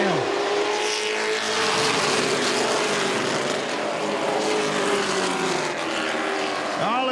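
Race trucks roar past at the Affordable Golf Carts 250 in Texas, a Camping World Truck Series event, engines loud and sustained with rising and falling pitch sweeps as trucks pass close by under crowd noise.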